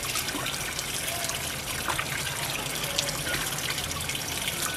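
Water runs from a tap in a continuous, splashing trickle that stays close and even for the whole stretch, with no talking.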